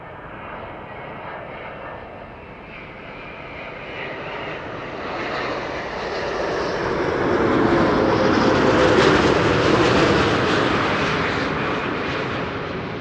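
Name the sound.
Delta Airlines Airbus A330neo jet arriving at Schiphol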